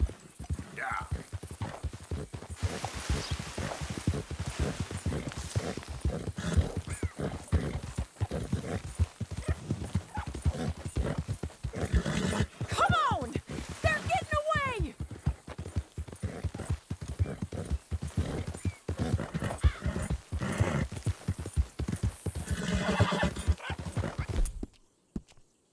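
Horse hooves clip-clopping steadily at a gallop in Red Dead Redemption 2, close and continuous for the whole stretch, with an occasional whinny and voices talking over the hoofbeats.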